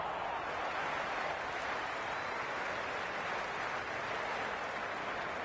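Stadium crowd cheering in the Cricket 26 video game, a steady, broad roar of many distant voices and applause holding at even loudness from start to finish.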